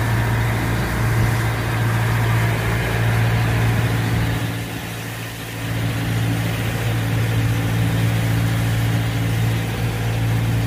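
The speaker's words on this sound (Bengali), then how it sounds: "আমাদের এখানে ক্যাপ্টেন আছে, উনি বোটটা চালাচ্ছে।" A small boat's engine runs steadily at a marina dock area in Annapolis, Maryland, with a loud, continuous low hum and drone that dips briefly midway and carries on without any talking.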